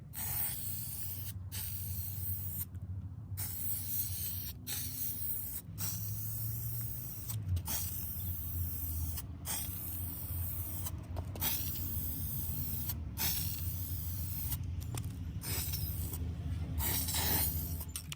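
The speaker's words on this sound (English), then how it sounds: "I'm going to spray the hardware using Rustoleum metallic paint in pure gold." Steady hiss of a Rustoleum metallic gold aerosol can spraying metal hardware in long continuous bursts, broken by brief pauses, close by with a low hum beneath.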